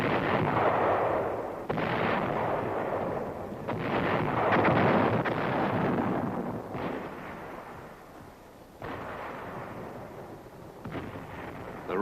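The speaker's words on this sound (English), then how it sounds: "Artillery and mortar fires supported the advance." Artillery and mortar fire from a 1961 atomic cannon test exercise, heard as a series of heavy, rumbling booms with long rolling decays, roughly every two to three seconds, on an old film soundtrack.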